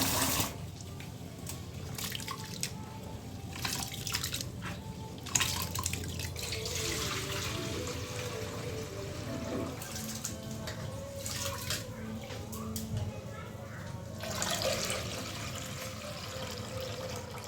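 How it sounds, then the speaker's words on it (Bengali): Rice and lentil wash water is poured onto the base of a plant during heavy rain, giving a steady, fairly soft splashing and trickling that runs through the whole stretch without talk. "সেই পানিগুলো আমি ফেলাই নাই, তো গাছের গুঁড়িতে দিয়ে দিচ্ছি"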